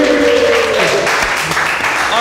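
Loud audience clapping at a live comedy show, a short burst of hands under overlapping voices and laughter, close and busy.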